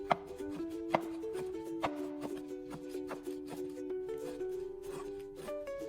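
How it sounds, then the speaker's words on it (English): Knife slicing rolled betel leaves into fine ribbons on a cutting board, a quick uneven series of crisp taps close by, with soft music playing underneath. "roll up the beetle leaves, and slice them into super fine ribbons"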